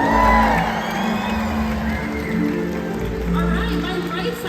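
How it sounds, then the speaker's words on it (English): A large stadium crowd at a SeaWorld Orlando orca show cheers and whoops for a killer whale's bow, a loud, steady roar of voices that rises and falls with no break, plus the watery splash of the show pool underneath. "so we're going to give him a great big cheer"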